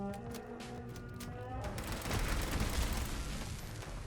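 Pipe weapon gunfire in Fallout 76 arrives as rapid repeated shots, first separate sharp cracks and then a denser rattling volley with low booms, all close and steady beneath a continuous game soundscape.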